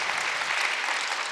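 A crowd at a church camp gathering in Korea claps steadily, a dense, even burst of applause heard alone.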